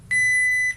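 A timer gives a single sustained electronic beep, loud and close, lasting just over half a second against quiet room background.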